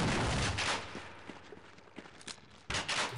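Shotgun fire in Half-Life, several sharp blasts spaced about a second apart, loud and close, with faint footsteps and quieter reports between the shots.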